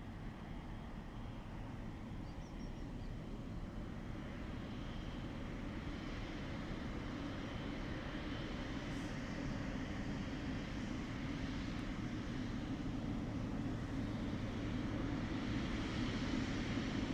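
Emirates airliner at Dublin Airport, a steady distant jet roar that holds broad and even for many seconds, slowly building slightly louder toward the end, no voices.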